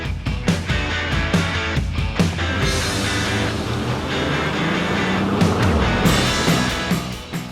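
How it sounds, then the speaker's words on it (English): Toyota Sienna and Honda Odyssey minivans in a drag race make loud engine noise up close, with revving and acceleration surges and road rumble running through the whole stretch, with no talking. "it's me and Jeff in a bare-knuckle cage fight drag race in the two minivans"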